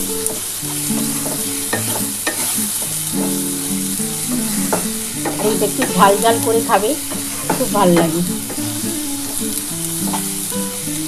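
Kachki fish fry in a pan with steady sizzling while a utensil stirs and scrapes in repeated strokes, loud and close, with someone talking over it.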